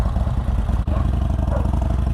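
A tiny motorcycle's engine runs at a steady, loud, close chugging pulse, with a brief dip partway through and no talking.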